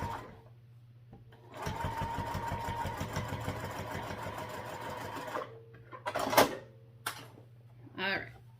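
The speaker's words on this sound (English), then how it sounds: "This is just a top stitch basting stitch at 1/8 of an inch." A sewing machine top-stitches a 1/8-inch basting stitch in a fast, rhythmic burst of about four seconds, with quiet stretches and a few clunks and handling noises before and after.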